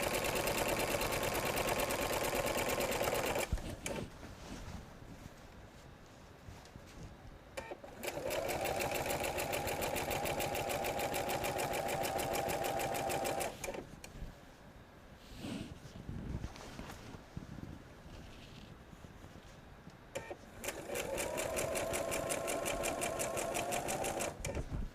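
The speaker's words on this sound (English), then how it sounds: "And you're stitching at 1/4 of an inch seam." A sewing machine stitches binding onto a quilt sandwich at a quarter-inch seam, running in three loud, steady bursts with quieter pauses and handling noise between them.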